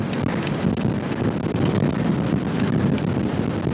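Wind on an open golf course, buffeting the microphone as a steady low rumble and roar that continues for the whole stretch, with no voices over it.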